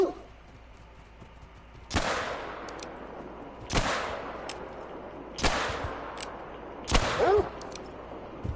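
Rifle shots from a hunting game set on Cape buffalo, four sharp loud cracks spaced about two seconds apart, each with a long decaying echo, over quiet ambient background.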